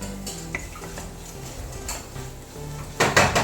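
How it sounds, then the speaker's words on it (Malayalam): A spoon stirring Kashmiri chilli powder into egg roast in a pan over a low flame, with soft scraping and clinks against the metal and a louder clatter near the end. "നന്നായിട്ട് മിക്സ് ചെയ്യാം"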